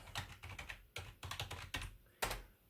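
Keys clack on a computer keyboard as a Wi-Fi password is typed, a quick series of close, crisp taps in short bursts with brief pauses between them, and no voices.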